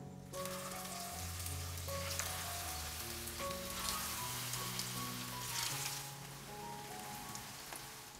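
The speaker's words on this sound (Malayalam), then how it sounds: "അതും കൂടി പെട്ടെന്ന് തന്നെ ഒന്ന് ഫ്രൈ ചെയ്തെടുക്കാം." Crispy rice snack mix fries in hot oil with a faint, steady crackling sizzle, heard quietly under melodic background music.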